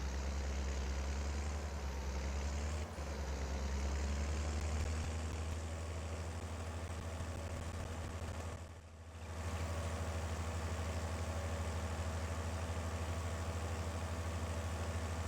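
A Deutz-Fahr tractor in Farming Simulator 22 idles with a steady low diesel drone for the whole stretch, close and even, with a brief dip near the end.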